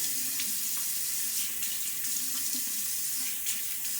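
A bathroom tap runs steadily for a rinse after a wet shave with a Gillette Nacet blade, a close, continuous hiss of water with faint clinks and splashes from hands and a brush beneath it.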